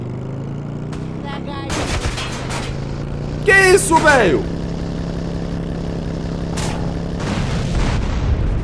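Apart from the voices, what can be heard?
bazooka and minigun fire in a video game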